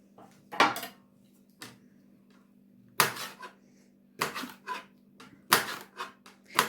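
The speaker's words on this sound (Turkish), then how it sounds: "biberlerin sap kısımlarını önceden koparıp doğramaya başlıyorum" Sharp knife chops through jalapeno peppers on a cutting board in irregular bursts, some single, some in quick pairs, close up against a low steady hum.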